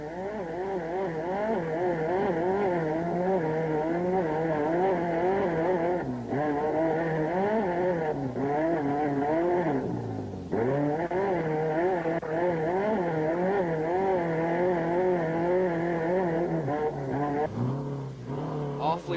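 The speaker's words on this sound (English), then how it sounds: "Now back inside the B.F. Goodrich Ford with Scott Douglas, who is now leading Class 7S by 10 minutes over Willie Valdez" Onboard a B.F. Goodrich Ford off-road race truck in the 1989 Gold Coast 300, with a loud engine that revs and drops repeatedly as it shifts over rough ground, plus a brief deep dip near the middle.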